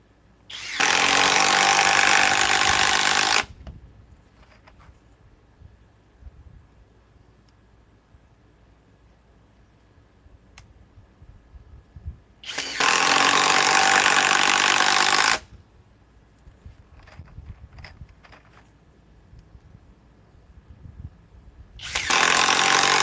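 A compact cordless drill driver and a hammer drill with 2 amp stacked lithium batteries run in two loud, steady bursts of a few seconds each, with a third starting at the end and quiet handling noise between them.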